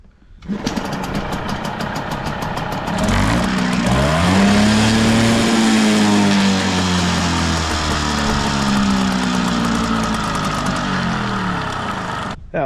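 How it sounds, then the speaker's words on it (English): A small Hangkai outboard motor, already warm, fires up after a brief cranking and settles into a loud, steady, buzzing run close by, with revs lifting slightly before holding even. "See if it fires back up now that it's warm."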